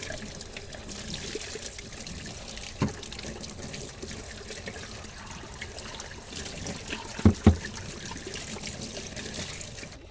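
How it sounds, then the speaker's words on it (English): Warm water runs steadily from a tap over Bissell vacuum filters being rinsed, a continuous close splashing rush with a few brief clunks of handling. "These can just rinse off with warm water."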